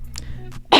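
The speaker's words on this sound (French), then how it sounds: "j'ai toussé un peu, genre j'ai là comme l'air est sec" A woman gives a short, dry cough from dry winter air in a heated room, a quick close burst at the end after faint throat sounds.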